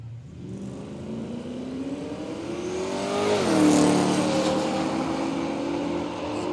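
Cars at a road trip drag racing event accelerate down the strip, a rising engine note climbing through the gears with a shift partway, loud and steady throughout, no talking.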